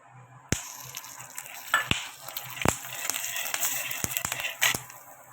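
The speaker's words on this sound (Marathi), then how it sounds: "आता आपण थोडंसं त्याच्यामध्ये तेल टाकूया तेल टाकून थोडंसं आणखी फ्राय करूया" Chillies frying in a little oil in a kadhai, with a steady soft sizzle broken by sharp clinks and scrapes of a spoon or ladle against the pan, close by and moderately quiet.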